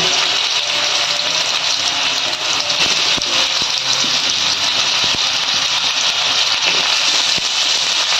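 Green mango pieces fry in hot oil with dried chillies and bay leaves, making a loud, steady sizzle with faint crackles and small pops throughout.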